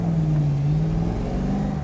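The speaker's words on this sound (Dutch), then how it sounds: "Je kunt het niet zien, maar je kunt het wel horen." A deep, throaty V8 engine in an MG B GT hums steadily nearby, its low drone wavering slightly in pitch as it idles.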